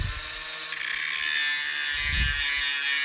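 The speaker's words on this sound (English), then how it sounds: "You want to try to evenly grind it right across." Steady abrasive grinding of a lawn mower blade's bevel, worked evenly across the edge, with a continuous hiss and a brief lower swell of contact partway through, heard alone.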